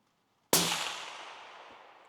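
A single rifle shot on a shooting range, a sharp, loud crack that rings out and fades slowly over about a second and a half, with no voices.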